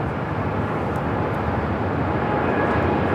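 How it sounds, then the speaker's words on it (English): A United Boeing 787 Dreamliner takes off at LAX, a steady broadband jet roar at moderate distance that builds slightly toward the end, with no voices over it. "Another United Dreamliner taking off here on the south side"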